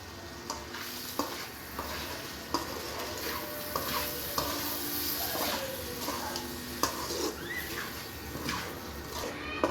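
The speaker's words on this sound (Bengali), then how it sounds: "এখন যে একটু কষিয়ে নিবে মাছটা কষিয়ে তারপর হচ্ছে সামান্য একটু গরম পানি দিয়ে দিবে" Chewa river fish being sautéed in a pan for a bhuna, with steady sizzling and frying under repeated stirring and occasional scrapes of a utensil against the pan, close and moderately loud.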